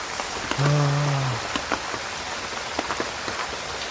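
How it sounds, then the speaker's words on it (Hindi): Steady heavy rain in a hill village patters on a surface, a dense hiss with scattered drops, and a brief low horn-like tone near the start. "ऐसी बारिश में मैं घर भी कैसे जाऊँगा"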